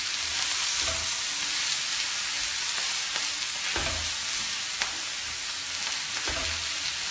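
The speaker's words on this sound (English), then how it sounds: "now I'm just gonna stir that around" Meat and vegetables stirred in a frying pan, giving a continuous loud sizzle with periodic scraping stir strokes roughly every second or two, close up with no talking.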